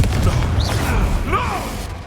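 A fiery blast spell cast in the Hogwarts Legacy video game, a whooshing burst with rising and falling tonal sweeps over a steady rumbling bed of battle noise, with no speech heard.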